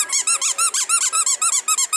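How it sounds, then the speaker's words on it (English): A squeaky dog toy being chewed, giving a rapid run of about sixteen shrill, close, loud squeaks in a steady rhythm with short gaps between them and no voices. "Gotta get Jerry a new squeaky."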